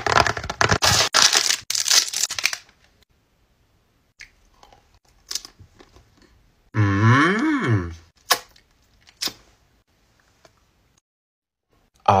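Crunchy chewing and biting on chocolate bar ice cream, close up and loud at the start, then sparse softer bites with a brief voiced groan-like sound in the middle, no talking.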